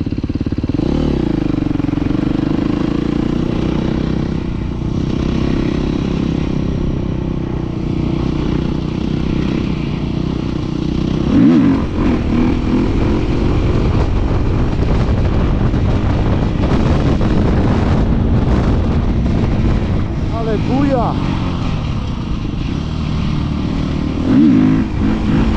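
Motocross bike ridden on a windy day, its engine droning loudly and steadily with occasional revs, heavy wind buffeting the microphone throughout.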